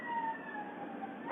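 A police siren sounds in a street, a steady, slowly falling tone heard at moderate distance through road noise, with no talking.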